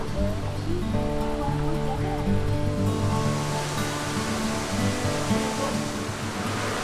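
A waterfall, Cachoeira do Flávio in São Thomé das Letras, Brazil, roars continuously at moderate volume, a broad even wash of rushing water with some tonal music-like layers over it.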